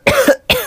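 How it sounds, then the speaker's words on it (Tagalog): Two sharp coughs from a child, close and loud, the second following the first after a short pause, with no talking over them. "Hala, inuubo ka ba, nak?"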